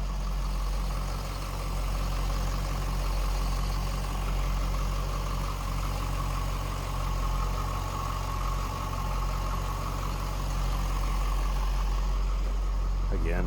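A 2003 Chevrolet Corvette 50th Anniversary Convertible with a stock intake idles smoothly nearby, a steady, low, even rumble that holds for the whole stretch.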